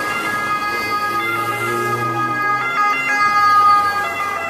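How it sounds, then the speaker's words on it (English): An ambulance siren wails steadily on a Milan street, loud and close. Its sustained tones sit over a low rumble of road traffic, with no voices. "after that annoying ambulance noise that is always in the background"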